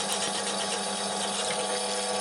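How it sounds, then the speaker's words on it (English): A 5 mm bit in a power drill bores through pre-drilled holes in mild steel in a home workshop, giving a continuous loud whirring grind throughout, close up and with no talk. "use a 5mm drill to open up the holes further whilst maintaining drilling accuracy"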